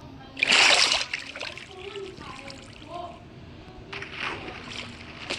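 Water splashes in a Minecraft game, with a loud burst of splashing near the start, a softer second wash later on, and a voice talking between them.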